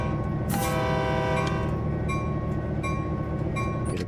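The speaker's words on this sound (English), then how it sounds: "Get a bit of power on to move that big beast of a train behind us." Locomotive in a train simulator game, a Peninsula Corridor Santa Clara run, powering up to move a heavy train in reverse: steady loud engine drone with rising harmonic whine, rhythmic clicks and brief hissing bursts, no voices.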